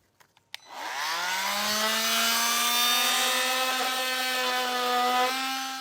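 A power saw cuts a plastic bumper piece to fit a base plate kit on a 2017 GMC Sierra 1500: a few handling clicks, then a loud sustained whine that rises in pitch and holds steady for several seconds.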